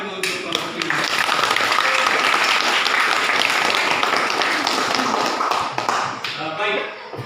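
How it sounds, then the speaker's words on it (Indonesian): Classroom applause for a student group: dense, sustained clapping from a room of students, loud and steady for several seconds before tapering off near the end. "Oke, tepuk tangan dulu untuk kelompok ini."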